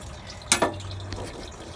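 Old gasoline drains from a mud train's fuel tank: two quick splashy liquid bursts close together, then a faint trickle over a low steady hum, with no talking.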